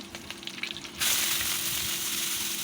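Green chilies dropped into hot oil in a pan in a village kitchen: a faint hiss becomes a sudden loud, steady sizzle that continues to the end.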